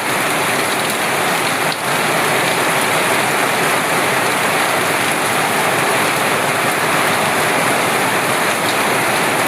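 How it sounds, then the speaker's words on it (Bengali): Heavy rain pours in the Andaman Islands, a stream of water falling hard and splashing outward onto the ground below, a steady, loud, close wash of noise with no let-up. "জলের ধারা নিচে এসে পতিত হচ্ছে। এবং চমৎকার একটা ফুলের আকার নিয়ে জলটা চারিদিকে ছড়িয়ে পড়ছে।"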